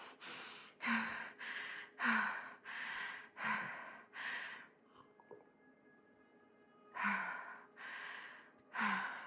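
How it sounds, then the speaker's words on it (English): Loud, heavy breathing from a horror game session of Dead by Daylight: a steady run of about ten deep, rhythmic gasping breaths close to the listener, with a brief pause in the middle before the panting resumes. "Your breathing is so fucking loud."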